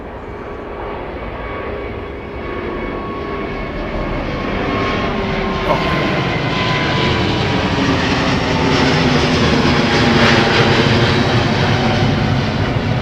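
A Korean Air Boeing 747-8i departs London Heathrow, its jet engines a broad, steady roar that grows louder and fuller over several seconds, heard from a distance outdoors.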